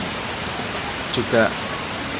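Waterfall at Sekar Langit in Central Java, giving a steady broadband rushing roar throughout, with a voice speaking briefly over it.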